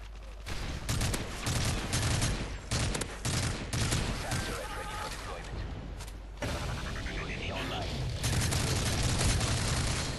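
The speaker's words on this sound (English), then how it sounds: "Who are you shooting at?" Gunfire from Call of Duty: Modern Warfare 3 fills the scene with rapid automatic bursts and heavy booming shots, clustered and loud. A low rumble runs beneath the fire, which keeps up almost without pause.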